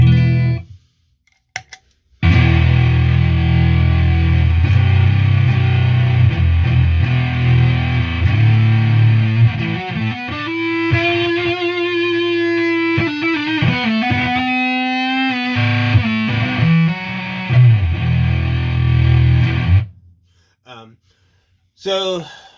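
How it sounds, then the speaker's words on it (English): A loud, buzzy square-wave distortion from an SQR ONE prototype on a modular synth, harsh, holding steady notes that shift pitch and bend midway before cutting off near the end. "basic square wave distortion coming from this thing sounds like"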